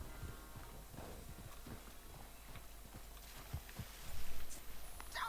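Horse hooves in the Red Dead Redemption 2 video game, a fairly close run of clip-clop steps with an uneven rhythm, growing louder and busier toward the end.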